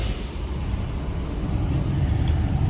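A 1961 Cadillac Fleetwood Special Sedan engine idling after startup, a low steady rumble that swells slightly toward the end, close by and without speech.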